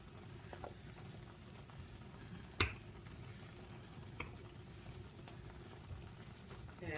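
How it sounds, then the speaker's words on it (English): Steak and pepper sauce simmer quietly in a pan, a soft continuous bubbling broken by a few small pops and spatters. "And letting all of this simmer."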